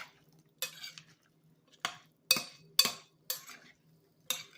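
Black bean and corn salad being mixed in a bowl, a utensil scraping and clinking through the ingredients in six separate strokes, fairly close and moderately loud, with quiet pauses between.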